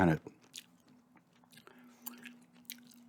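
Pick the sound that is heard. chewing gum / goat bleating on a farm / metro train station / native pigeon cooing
chewing gum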